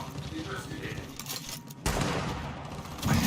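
Bursts of gunfire in the Gears of War video game during a competitive esports match, sharp cracks and a louder volley near the end, heard over a commentator's voice.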